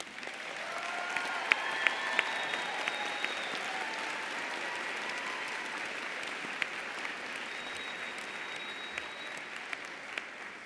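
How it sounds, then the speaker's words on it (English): A standing audience at a university social work commencement ceremony gives sustained, dense applause, a broad steady roar of many hands with occasional sharper claps and faint cheers over it. "another round of applause"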